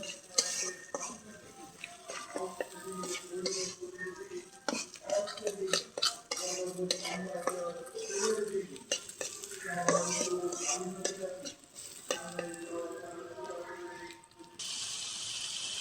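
Egg stirred into fried onions in a pan, with irregular clinks and scrapes of a utensil against the pan over a soft sizzle. The sound is close and busy, with no talk.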